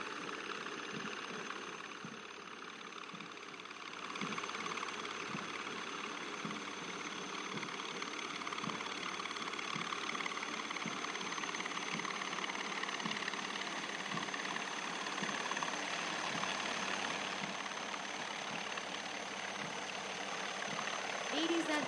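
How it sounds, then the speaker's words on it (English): One Cheetah and two Chetak army helicopters fly in formation over an outdoor military passing-out parade, a steady broadband rotor and engine drone sustained throughout at moderate loudness, with faint rhythmic thumping. "You can see 1 Cheetah and 2 Chetak helicopters of 665 Army Aviation Squadron in PATS formation, proudly carrying the national flag"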